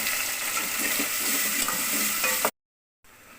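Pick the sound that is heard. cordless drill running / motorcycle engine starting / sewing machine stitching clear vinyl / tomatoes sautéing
tomatoes sautéing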